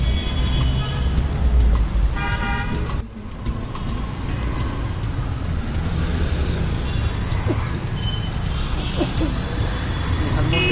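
Busy road traffic in Dhanmondi, Dhaka, with a steady loud roar of cars, buses and trucks passing close by and occasional horn toots, continuous throughout, with voices mixed in.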